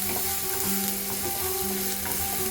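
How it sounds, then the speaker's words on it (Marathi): Ginger, garlic and green chili paste frying in hot oil in a pan, a continuous close sizzle with faint stirring scrapes, steady and without voices. "मसाला तेलामध्ये एखाद मिनिटभर परतून घेऊया"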